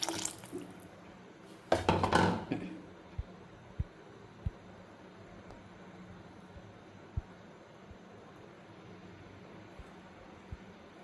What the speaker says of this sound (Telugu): ఇప్పుడు మనం తీసి పెట్టుకున్న చింతపండు పులుసు మొత్తం పోసేసుకోవాలి